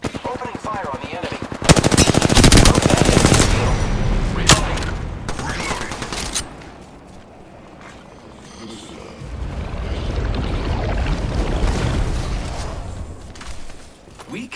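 Rapid automatic gunfire in the video game Apex Legends, loud, close bursts of sustained fire with a brief lull in the middle before another long volley, game sounds layered underneath.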